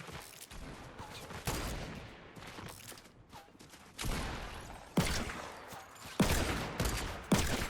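Gunfire in the video game Fortnite: a series of sharp, loud shots at irregular intervals, some nearby and some further off, with quieter rumbling between them and no talk.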